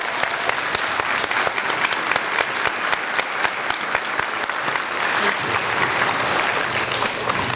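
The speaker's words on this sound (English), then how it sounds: "can we give one more round of applause to Ms. Leilani Hartley?" Students and guests at a Veterans Day assembly in an elementary school give dense, steady applause, many hands clapping continuously at close range throughout.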